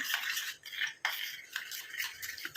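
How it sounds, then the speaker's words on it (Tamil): Utensil scraping and stirring a homemade hair dye mixture in a small bowl, a close, repeated swishing and clinking of several strokes with brief pauses between them. "நல்லா கலந்து விட்டுருங்க கொஞ்சம் கூட கட்டிக்கடே இருக்கக்கூடாது அந்த மாதிரி கலந்து விட்டுருங்க"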